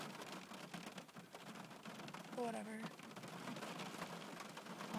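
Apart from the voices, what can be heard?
rain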